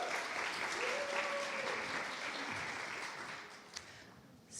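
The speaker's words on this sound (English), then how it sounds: "So give them a round of applause as they come up." An audience at an evening charity event claps steadily for a few seconds as guests come up, the sustained applause fading gradually toward the end with a faint voice at the close.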